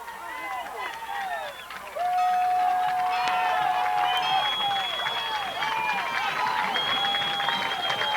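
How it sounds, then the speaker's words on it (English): Home crowd at a high school football game clapping and cheering as the team leaves the field, a broad sustained roar with whistles and shouts, louder after the first couple of seconds. "Big hand for the home crowd as Stanton Buffaloes come off the field and prepare for the kickoff."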